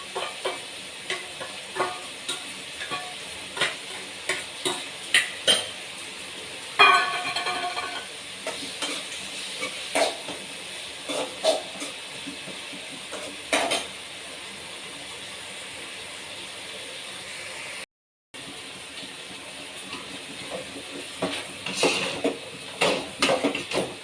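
Tomato and a ground ginger-garlic-mint paste stirred in a cooking pan for a quail gravy, with repeated scraping and clattering strokes over a soft sizzle, close and rhythmic, a brief silent gap partway through, no talking.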